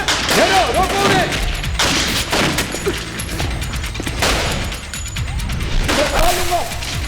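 Rapid bursts of gunfire crack repeatedly, loud and close, with overlapping shots and clattering effects throughout.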